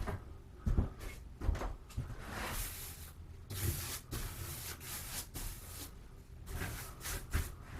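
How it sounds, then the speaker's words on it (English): A paint brush is dry brushed in quick, repeated scrubbing strokes, a series of close, bristly swishes and brushes with short pauses between them. "I'm just dry brushing to get the brush a little cleaner before I put it in the solvent"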